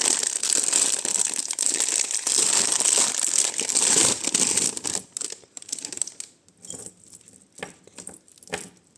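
Crinkly plastic packet of vintage jewellery being torn open and unwrapped, close and continuous for several seconds, then thinning into sparse rustles and small clinks of pieces shifting.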